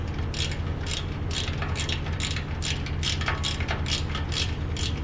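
A 3mm Allen wrench tightening bolts on a Dodge Charger or Challenger exhaust gives a steady run of about a dozen quick ratcheting clicks at an even rhythm, close and clear with no talk.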